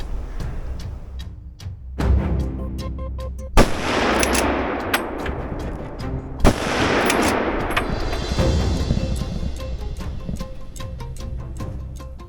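Gunfire during a driven wild boar hunt outdoors in Austria: a few loud, sharp rifle shots spaced seconds apart, each followed by a long rolling echo across open ground, with no talk.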